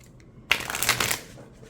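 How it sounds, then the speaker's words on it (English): A single quick riffle of an oracle card deck being shuffled, a close, crisp fluttering burst lasting under a second, then fading. "let's see how this deck shuffles"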